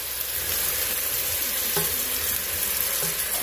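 Seasoned food fries in a pan with a loud, steady sizzle and faint scraping as it is stirred together, no voices.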